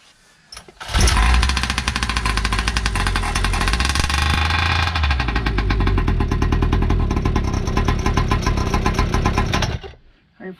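A Primal R/C Raminator gas engine fires up after a second and runs loud and close at a low, rattling idle for about nine seconds before cutting out.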